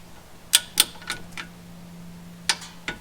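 A Rancho glide plate (skid plate) snapping into place on a vehicle, giving a few sharp, close plastic clicks in quick succession, then two more crisp clicks after a short pause, with no talking.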